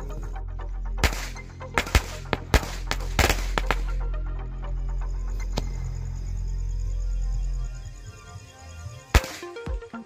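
A rapid string of sharp Diwali firecracker pops crackles for several seconds, then a lingering hiss and a final loud bang near the end.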